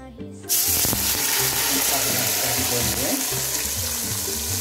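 A loud sizzle erupts suddenly and then holds as a steady, crackling hiss of laksa spice paste frying in hot oil, with music playing underneath.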